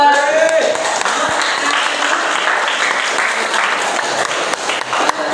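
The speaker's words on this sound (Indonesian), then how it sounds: "tepuk tangan dulu buat" Loud, steady applause from a class group during a session on Islamic sermons and preaching, continuous clapping that fills the clip from start to finish with no talk on top.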